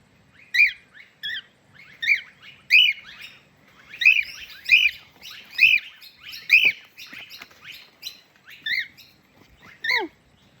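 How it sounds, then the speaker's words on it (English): Two Indian myna birds call close by in a series of sharp, squeaky chirps and whistles, about a dozen bursts in quick irregular succession that end in a falling squeal, heard alone and clearly. "They're 2 little Indian minor birds, but it didn't sound like Indian minor birds for a minute there."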